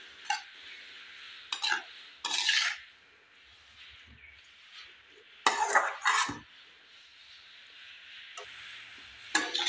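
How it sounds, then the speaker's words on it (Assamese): A coconut mixture is stirred and fried in a wok over medium flame, with intermittent scraping and clinking strokes of a spoon against the pan separated by quieter pauses, heard up close. "এতিয়া মই মিডিয়াম ফ্লেমত এইখিনি কেৰাহীখনত এইদৰে ভাজি থাকিম।"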